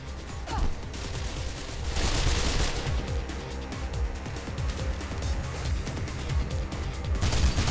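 Gunfire in the video game Mirror's Edge: bursts of rapid shots and automatic fire over a busy game soundscape, loud and continuous with a crash near the start.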